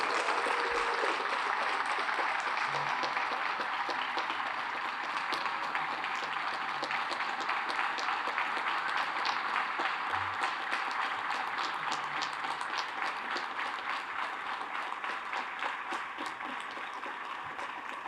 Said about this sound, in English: How about giving Edna a big round of applause?